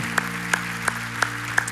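A church congregation claps in steady unison, about three sharp claps per second over a sustained, droning keyboard tone, at moderate loudness with no voices.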